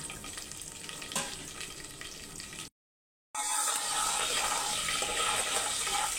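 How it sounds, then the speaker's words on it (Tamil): Vadagam tempering with green chillies and curry leaves fries in hot oil, giving a steady, close crackling sizzle broken by a brief silent gap midway. "நல்லா பொரியணும்."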